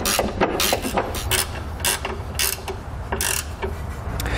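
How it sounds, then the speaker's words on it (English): A 14 mm ratcheting wrench tightening trailer hitch bolts under a 2013 Lexus RX 350, giving a rapid series of close metallic ratchet clicks in short bursts with brief pauses between strokes. "I'm going to be using a 14 millimeter ratcheting wrench"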